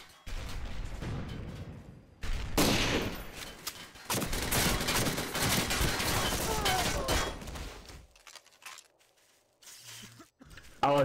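Rapid gunfire from an online multiplayer war game, dense bursts and booms running for several seconds before dropping out, with a player talking over the fighting.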